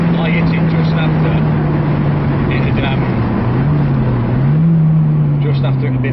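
A Honda Civic EP3 Type R crossing uneven gravel, its engine droning loud and steady with a slight pitch wobble, under a dense wash of tyre and road rumble and wind, while people talk inside the car.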